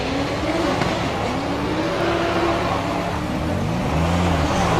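A VW drag racing car makes a run at a summer nationals qualifying round, its engine a continuous loud roar with rising and falling pitch sweeps as it accelerates and shifts, heard at a moderate distance without talk.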